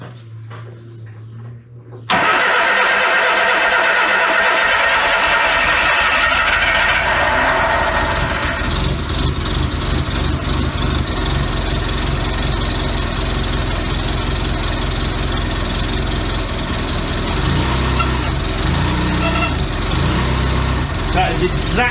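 A Classic Mini engine in a workshop bursts into life after a brief crank, then runs continuously with a rough, knocking idle, loud and close throughout.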